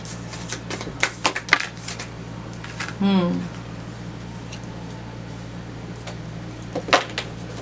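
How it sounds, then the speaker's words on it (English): A tarot card is drawn from the deck during a chakra reading, giving a few soft papery slides and flicks against a steady background hum, with a short rustle in the middle and no talking. "let me pull this last card here"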